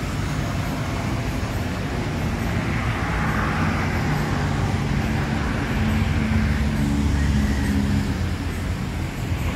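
A Jetbus 3 coach idling at a bus terminal in Palembang amid steady traffic, a continuous low engine rumble with road noise holding at an even level throughout.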